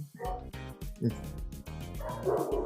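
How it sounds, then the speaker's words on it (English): Dogs bark and yip repeatedly nearby, mixed with whining, whimpering tones, loud and nearly continuous throughout. "Sorry about the dogs."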